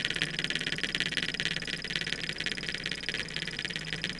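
A small Keppe motor about six centimetres long, with two coils and a neodymium magnet rotor, runs on a 9 volt battery, giving a steady close buzzing whir with a rapid pulsing flutter, alone.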